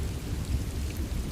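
Steady thunderstorm rain pours on surfaces in a continuous, dense wash with a low rumbling undertone, heard alone with no voices.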